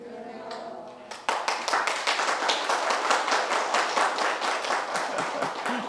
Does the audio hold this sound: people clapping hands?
yes